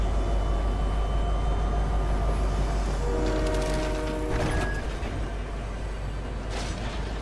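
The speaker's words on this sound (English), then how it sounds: "I'm landing on the train." A train in the Fortnite video game rolls past with a steady low rumble and rattling, and a horn-like tone sounds briefly midway, with no voices.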